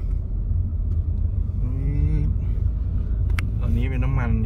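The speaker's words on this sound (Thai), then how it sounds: "ตอนนี้เป็นน้ำมันนี่ผมเหยียบคันเร่งเยอะครับออกตัวเป็นน้ำมัน" A hybrid car pulls away hard from a stop on its petrol engine, a close low rumbling engine drone rising in pitch under a voice talking inside the cabin.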